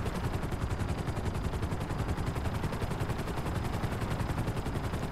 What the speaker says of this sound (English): My vehicle already shoots rockets.